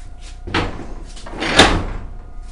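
A steel blast door on a homemade airsoft fort, built almost entirely of steel, is worked with two bursts of heavy metallic clanking and scraping, the louder one coming second and up close.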